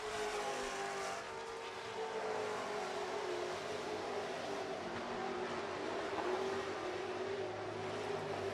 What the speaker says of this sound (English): Kip DeGroot, your race leader in 44 as he pulls away